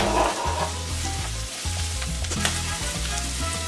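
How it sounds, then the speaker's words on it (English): White onion and garlic sautéing in oil in a pan for a vegan spinach artichoke dip, with a steady, fairly loud sizzle and occasional soft stirring scrapes, no voices. "Once these onions start to get fragrant and sweat out a little bit, let's add in 3 cloves of garlic."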